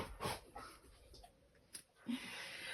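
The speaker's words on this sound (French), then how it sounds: "Il y a mon petit chien qui me fait un coucou." A small dog pants and whimpers nearby, quick faint breaths and soft whines in short bursts against a quiet room, close to the microphone but low in level.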